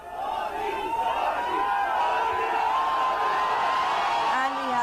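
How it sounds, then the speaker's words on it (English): A large crowd at a Delhi metro station cheers and chants Modi's name in rising, rhythmic shouts, loud and continuous with whoops and overlapping voices close by. "The chants of Modi, Modi there."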